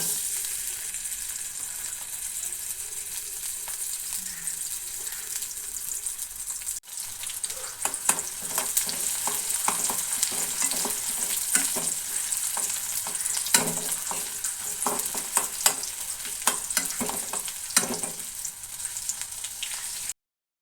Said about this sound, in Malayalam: നമ്മൾ അരിഞ്ഞു വെച്ച ചെറിയ ഉള്ളി ഇട്ട് കൊടുക്കാൻ പോവുകയാണ്.